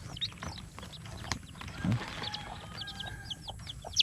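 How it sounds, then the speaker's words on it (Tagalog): A crowd of chicks cheeps nearby in thin, high, rising peeps that overlap and repeat steadily over a low background rumble. "Ang dami sisiw oh."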